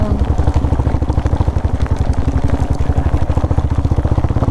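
Heavy rain falls during an off-road motorcycle ride in the Bhadra area, with a steady dense patter over a rapid rhythmic engine thrum, loud and continuous throughout.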